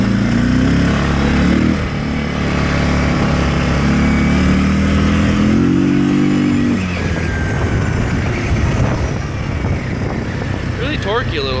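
A 2008 Yamaha Wolverine 350 2WD ATV, cold-blooded and slightly choked, is driven around with its Ultramatic transmission: a loud, close engine drone that rises and falls in pitch as it pulls away, then settles into a rougher, steadier rumble.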